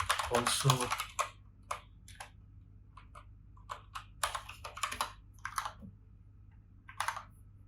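Git commands being typed on a computer keyboard: quick bursts of crisp key clicks in short runs separated by pauses, close and fairly quiet.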